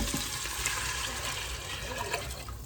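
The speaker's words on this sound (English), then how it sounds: "So you add your water" Water pouring into a cooking pot for yellow rice with pigeon peas, a continuous splashing, gurgling flow heard close up and fairly quiet, with no talk over it.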